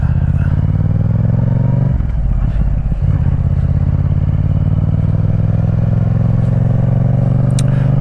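A Yamaha MT-07 motorcycle on an afternoon ride hums loudly and steadily from the rider's position, its engine note rising slowly, with a brief rough clattering patch in the middle.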